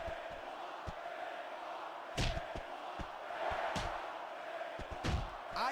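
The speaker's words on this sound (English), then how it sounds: "I can't remember the last time I've seen a crowd so pumped up" A wrestling video game crowd roars in a steady wash of arena noise during a Buried Alive match, punctuated by sharp slams and thuds at irregular intervals.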